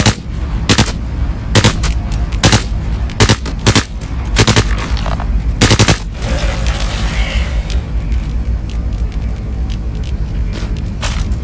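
Video game gunfire: loud, sharp shots in uneven bursts and single reports through the first half, thinning into a steadier background rumble with a few scattered shots later.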